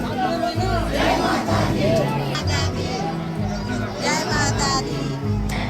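A dense crowd of devotees at the Jivdani Mata hill temple in Virar, Mumbai, chants loud devotional cries together. The massed voices swell and fade in a steady, close wall of sound.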